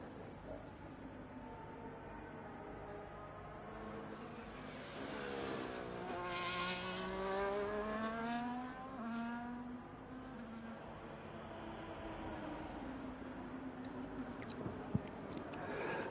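F1 cars in a racing video game at the Mexican Grand Prix, with a single engine note rising and then falling as one car sweeps past close by over a steady drone of other cars, with no talking.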